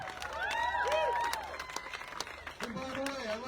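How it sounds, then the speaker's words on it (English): Scattered clapping and cheers from an outdoor rally crowd in Ojai, with voices calling out and talking over the applause. "And applaud who is here."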